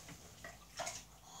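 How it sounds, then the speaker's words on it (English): Warm water pours into a bucket of ice water for an ice bucket challenge, a brief, faint splashing pour with a few quick surges, with no voices. "I'm just gonna put a bit of warm water in so it's not too cold."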